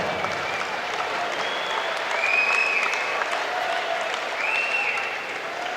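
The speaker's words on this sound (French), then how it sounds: "donnons-leur une excellente main d'applaudissement" Sustained crowd applause fills the arena after a boxing bout between Schiller Hyppolite and Ricardo Marcelo Ramallo, a dense steady roar of many hands with a few whistles riding over the top, swelling slightly midway.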